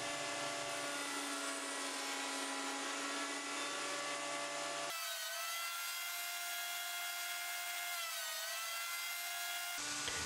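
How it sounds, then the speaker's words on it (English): Combined jointer-planer squaring wood stock for a small wooden box, a steady high whine of spinning cutter knives that shifts to a different droning pitch partway through, with no talk. "Then I used my jointer slash planer to square my stock."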